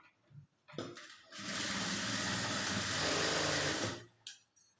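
A sewing machine stitches the front cup shape of a blouse, running in one steady whirring burst for about two and a half seconds between quieter handling clicks and rustles.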